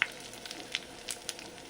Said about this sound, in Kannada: ನೋಡಿ ಎಣ್ಣೆ ಕಾಯಿಸ್ಕೊಂಡಿದ್ದೀನಿ ನಾನು. ಸ್ವಲ್ಪ ಸಾಸಿವೆ,